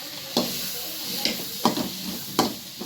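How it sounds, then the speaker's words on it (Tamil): Chopped tomatoes sautéing in a pan over ginger and garlic already fried for a chicken gravy, with a soft steady sizzle and a few sharp stirring scrapes spaced about a second apart. "தக்காளி நல்லா வதக்கணும்"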